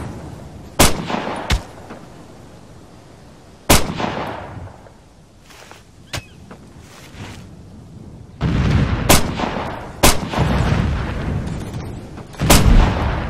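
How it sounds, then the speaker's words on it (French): Artillery barrage in the military shooter Operation Flashpoint: Dragon Rising, with a series of sharp, loud blasts spaced irregularly over low rumbling, the impacts growing denser and heavier toward the end. "Tir de barrage accordé."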